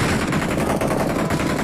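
Video-game gunfire in a PUBG-style battle royale: dense, rapid automatic bursts crackling continuously at a fairly loud level with no talk.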